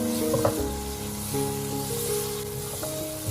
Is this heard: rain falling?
no